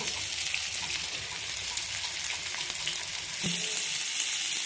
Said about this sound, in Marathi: तर आता लगेच दुसऱ्या बाजून आपण परतून घेते याला त्याचं अगदी थोडंसं तेल टाकून आपल्याला परतून घ्यायचं आहे